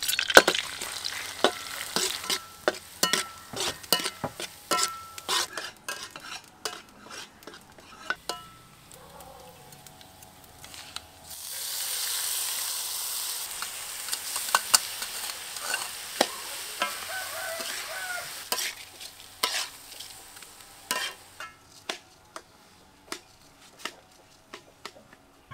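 Chopped garlic sizzles in hot soybean oil while a pan is stirred for a native chicken porridge, giving a steady crackling fry with scraping and clattering utensils throughout and a louder hissing surge midway.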